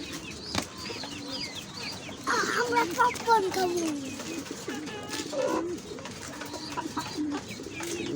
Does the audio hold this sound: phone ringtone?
no